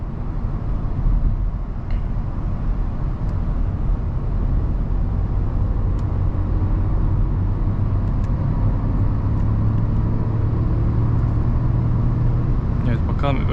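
Engine and tyre noise from a 2021 Volkswagen Golf 8 with a 1.0 TSI engine, cruising in drive, make a continuous low rumble throughout, with a slightly stronger hum building toward the end.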